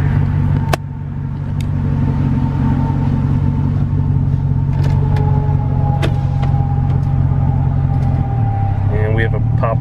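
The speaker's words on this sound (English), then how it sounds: "this thing hasn't run in a long time and it's just purring real nice" An old car engine, long unused, idles steadily with a low even rumble close by, a small click near the start and a shift in pitch toward the end.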